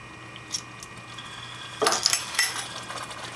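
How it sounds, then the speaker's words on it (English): A utensil stirs fudge mixture in a pan, giving a few faint scrapes and light clinks near the end of a quiet stretch, with no talking. "And you're going to want to stir it."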